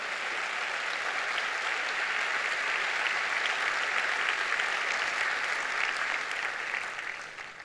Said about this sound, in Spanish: Dele ese aplauso fuerte a Dios